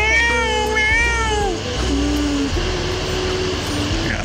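A stray cat in Qatar meows several times in rising and falling calls, close and fairly loud over a steady low background hum.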